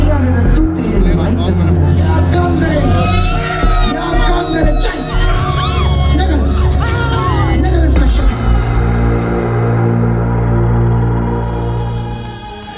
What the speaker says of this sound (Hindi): प्रार्थना खत्म होते ही पंडाल में चीख पुकार मच गई।